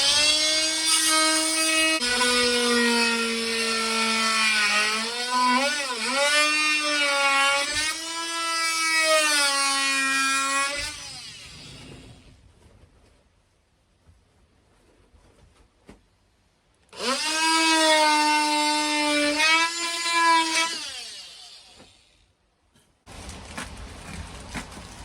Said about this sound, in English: Obviously, I have to do the rest with the multi-tool.